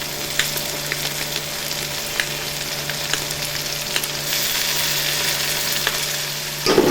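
Chana dal being fried with green chillies for a Punjabi-style dal with bottle gourd, giving a steady close sizzle with occasional spoon taps and a low background hum, then a sudden louder burst at the end, with no voices.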